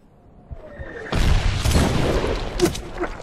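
Incoming artillery shells exploding in the 2010 Medal of Honor video game, set in the mountains of Afghanistan, a low booming blast with crackling debris, then a second sharper impact, fairly close and loud.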